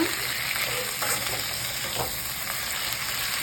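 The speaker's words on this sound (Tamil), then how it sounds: "கத்திரிக்காய் வந்து எண்ணெயிலே இதுமாரி நல்லா வதங்கணுமா" Eggplant pieces fry in oil for kara kuzhambu, giving a dense, even sizzle that holds steady throughout with faint stirring knocks.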